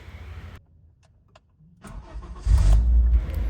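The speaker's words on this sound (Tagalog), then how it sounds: "Iba talaga ang ikot ng starter pag bago battery" Honda Brio with a new Yokohama battery: a quiet pause, then the starter cranks and the engine catches with a loud, close rumble into idle.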